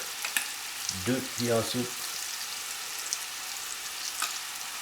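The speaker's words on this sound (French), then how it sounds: "Je les ai mis dans la poêle avec une grosse noix de beurre." Apples stew in a pan with butter, a soft steady sizzle running under the whole clip while a person speaks a few words partway through.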